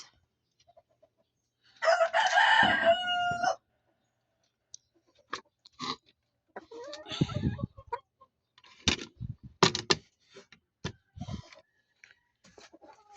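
Laying hens cluck in their coop and a rooster crows nearby, followed by scattered pecks, clicks and soft fowl calls in an otherwise quiet space.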